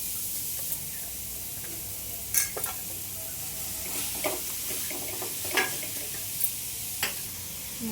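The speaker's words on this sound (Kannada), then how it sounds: "ಇವಾಗ ನಾನು ಮುಲ್ಲಂಗಿ ಕಟ್ ಮಾಡಿದ್ದೀನಲ್ಲ ಅದು ಹುರ್ಕೊಂತೀನಿ ನೋಡಿ" Chopped radish (mulangi) frying in a pan as it is stirred for a palya: a steady oil sizzle and hiss with occasional scraping clicks of the spoon, close and continuous with no voices.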